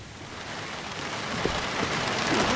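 Heavy rain pours down in the horror video game Midnight Prowl, a dense, constant hiss that swells slightly louder toward the end. There is no speech.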